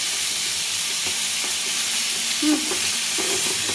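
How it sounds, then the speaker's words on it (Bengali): Crab pieces rubbed with salt and turmeric fry in a small saucepan, a loud, steady close sizzle with a few light clinks of stirring. "তারপরে নুন হলুদ মাখিয়ে রাখা ছিল, সেটাকে আমি এখন ভাজছি।"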